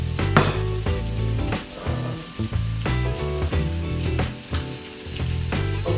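Meat sizzles and spits loudly in butter in a hot pan, with bursts of crackling and occasional stirring scrapes, no voices.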